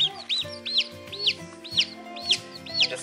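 Newly hatched chicks peep loudly and close by in a quick, repeating series of high chirps, with faint background rustling.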